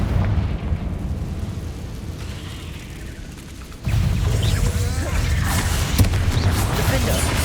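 A Confringo spell goes off in Hogwarts Legacy, a sudden loud burst of fiery, rumbling noise that lifts a dense game soundscape of rolling booms, crackles and mechanical clatter, with a sharp pop near the end.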